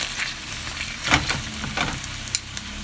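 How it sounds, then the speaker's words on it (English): Italian sausages cook slowly in a pan over moderate heat, giving a soft, low sizzle with a few brief crackles and one or two light scrapes of turning, quiet and close. "So we have our sausages cooking."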